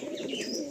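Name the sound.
pigeons cooing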